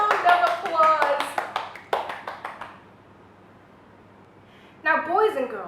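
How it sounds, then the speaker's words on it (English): Children in a story-time group clap together in a lively round of applause, dense and close, fading out, followed after a pause by an adult voice speaking. "Let's give ourselves a round of applause."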